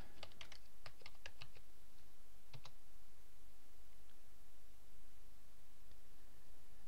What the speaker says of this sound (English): Let's type in golfing